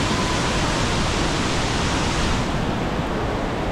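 Steady rushing roar of a waterfall at Plitvice Lakes National Park, close and continuous like heavy rain, with no voices over it.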